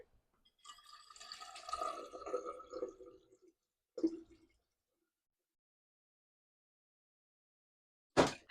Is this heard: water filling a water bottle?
yes